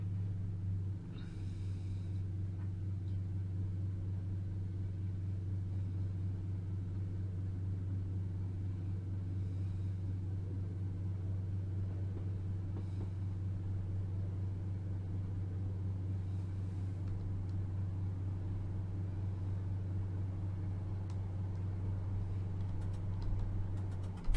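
A Class 150/1 diesel multiple unit in Train Simulator 2021 accelerates after Woodgrange Park, its engine a steady low drone and rumble that holds throughout with faint rattles and clicks on top.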